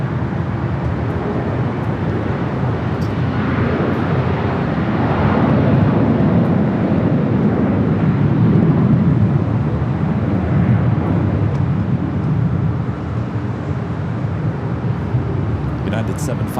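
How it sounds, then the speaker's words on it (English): A United Boeing 757-200 airliner takes off from the south side at Los Angeles airport with a steady, broad jet roar that swells slightly midway and holds throughout, heard from a distance under a spotter's commentary. "United 757-200 taking off there on the south side"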